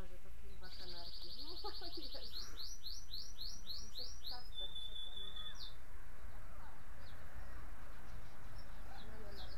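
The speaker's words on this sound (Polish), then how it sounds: "O Boże, to chyba kanarki." Canaries in a cage sing bright, rapid trills and repeated whistled phrases, with a low voice murmuring in the background.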